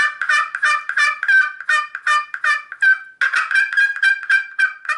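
A turkey call imitating an aggressive hen runs through a rapid string of sharp yelps, loud and close, with a brief pause before another quick, insistent series.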